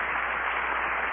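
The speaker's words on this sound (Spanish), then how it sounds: "Un aplauso para el Espíritu Santo." Sustained applause from a church congregation, a dense steady wash of clapping that fills the room evenly from start to finish with no voices above it.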